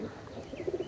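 Andhra red-headed pigeons coo in a few soft, close, repeated low calls over a short quiet stretch, with no talking.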